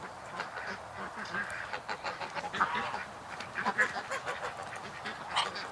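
A Muscovy duck outdoors gives soft, repeated honking and hissing calls in irregular bursts, moderately close, with faint background activity.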